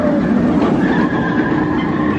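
Steel roller coaster from 1976 with a loop thundering along a track beside railway lines at a Great America amusement park: a steady, loud rumbling roar with rattling wheels that holds for the whole stretch, no voices heard.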